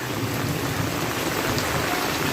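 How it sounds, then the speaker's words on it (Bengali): Heavy rain pouring steadily on a paved village road near a sawmill, a dense unbroken hiss that stays loud and even throughout, with no voices. "প্রচুর বৃষ্টি"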